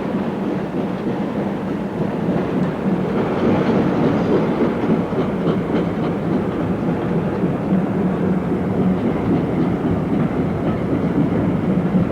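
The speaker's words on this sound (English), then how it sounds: "It's the King George V again, which is going to run to Didcot and back." The King George V steam locomotive running a train toward Didcot, heard as a loud, continuous rolling rumble with a faint rhythmic clatter of wheels over rail joints, steady for the whole stretch.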